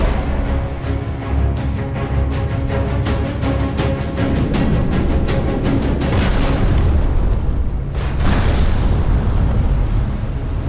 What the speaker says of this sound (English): Torpedo fire!